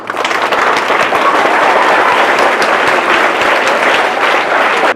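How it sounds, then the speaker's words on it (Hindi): Loud, sustained applause from a large audience, dense and even throughout before cutting off abruptly at the end. "तो सीए के हस्ताक्षर के लिए एक बार जोरदार तालियां।"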